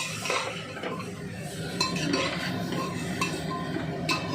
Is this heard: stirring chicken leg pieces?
yes